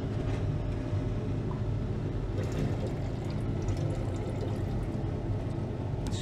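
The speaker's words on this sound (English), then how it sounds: "Let's pour this rinse water off." Rinse water poured off a beaker of settled metal gives a continuous, close liquid pouring and splashing that stays steady and fairly loud across the whole stretch, with no talking.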